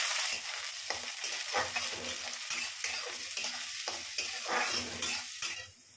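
Onion, garlic and chili frying in a pan, with a steady sizzle broken by repeated scraping strokes of a spoon stirring, close and fairly quiet.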